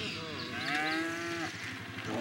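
A cow moos in the Lego Jurassic World video game, one long drawn-out low call over a soft game background.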